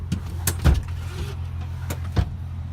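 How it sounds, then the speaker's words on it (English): Rear seats of a 2007 Ford Edge SEL Plus released by a button and folding down, a few sharp clunks and latch thumps inside the cabin over a low steady hum. "a little button that releases the seats to flip down real easily there"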